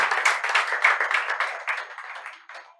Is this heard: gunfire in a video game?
no